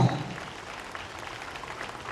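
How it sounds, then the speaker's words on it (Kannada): An audience in a newly opened hall in Mangaluru claps for children as a sustained, even patter of applause, with a faint voice at the start. "ಜೋರಾಗಿರುವಂತಹ ಕೈ ಚಪ್ಪಾಳೆ ಬರಲಿ."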